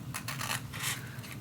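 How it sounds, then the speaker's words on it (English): Scissors snip steadily through paper along a marked line, a close run of rasping cuts in quick rhythm with no talking. "I'm just gonna cut 1 millimeter along that black line"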